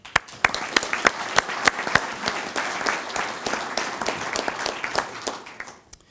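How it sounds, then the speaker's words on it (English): A conference audience at an employee ownership conference breaks into applause, with crisp individual claps standing out over a dense wash before it tapers off. "So let's give them a round of applause this morning."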